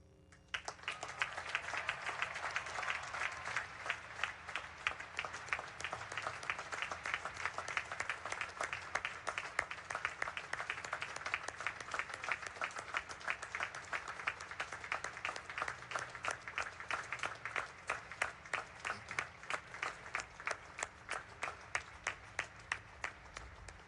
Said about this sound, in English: acknowledge Taylor with a round of applause on this day to celebrate his life